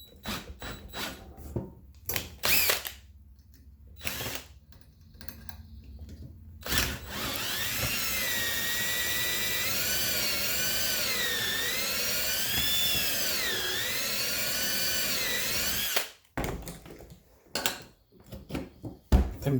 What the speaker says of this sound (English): God, these drills are awful after they get old.